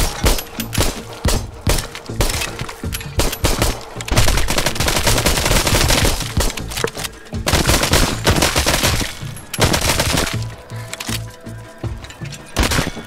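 Rapid bursts of gunfire in the zombie shooter Arizona Sunshine crackle loudly and close, with dense volleys and short pauses between strings of shots.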